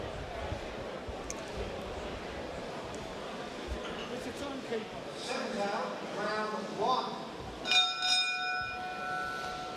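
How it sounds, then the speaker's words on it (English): A boxing bell rings out clearly near the end, a few bright metallic clangs announcing the first round of a lightweight bout, over crowd murmur and ringside chatter in an arena. "Bell goes to the start of the first round."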